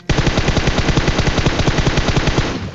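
Rapid automatic gunfire in the mobile battle royale game PUBG Mobile, a loud continuous burst of evenly spaced shots lasting over two seconds before cutting off, with no voice over it.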